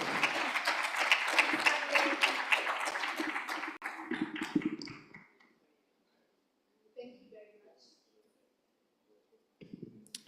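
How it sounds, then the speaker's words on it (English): Audience applause at an African economic conference, a dense round of clapping that fades out after about five seconds, followed by quiet with brief scattered sounds. "can we just have one more round of applause as I take my seat?"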